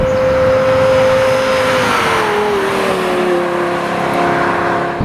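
A Lexus LFA supercar engine revs hard and loud, its high tone climbing then dropping slightly as the car accelerates, with a continuous roar throughout and no talking.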